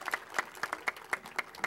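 Audience at a college groundbreaking ceremony claps in a light, evenly spaced rhythm, moderately distant and fairly soft, with no voices over it.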